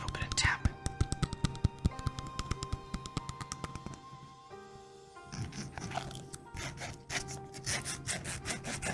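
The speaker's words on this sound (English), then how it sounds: "it's like a jar of honey, and the lid has some ridges on it" Close-up tapping and rubbing on the ridged lid of a glass honey jar: a rapid run of crisp taps, then softer scratchy rubbing and scraping along the ridges, quiet and intimate with no talking.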